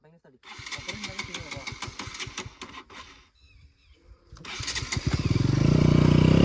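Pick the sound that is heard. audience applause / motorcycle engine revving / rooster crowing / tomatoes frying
motorcycle engine revving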